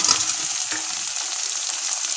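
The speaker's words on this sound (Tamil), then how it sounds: "காயெல்லாம் நல்லா வதங்கட்டும்." Vegetables with slit green chillies sauté in a hot pan for broken wheat upma, giving a steady, close, fairly loud sizzle and hiss with no talking.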